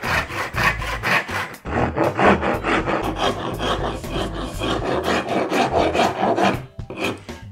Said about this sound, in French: Et après, tout le reste, je vais l'enlever avec à la râpe.